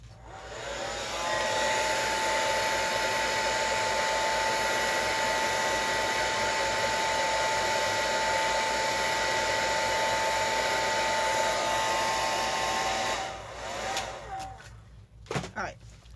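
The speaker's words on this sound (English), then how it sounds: "Let me dry it really quick, you guys, with my dryer." A hair dryer blows on wet black paint on a mixed-media craft collage, a steady whirring roar with a constant whine that runs loud and close for about thirteen seconds before switching off, followed by a few soft handling clicks.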